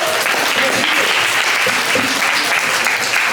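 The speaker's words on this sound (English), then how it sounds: "everyone please make some noise for Lovely." A crowd at an open mic night claps and cheers loudly and continuously, a dense wash of applause with scattered shouts throughout.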